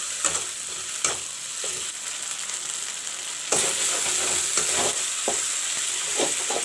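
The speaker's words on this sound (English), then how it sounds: "Put some turmeric powder and fry the masala." Masala with turmeric powder frying in a pan for a white pumpkin curry, a continuous soft sizzle broken by several spoon scrapes and clinks, growing a little brighter and louder halfway through, no talking.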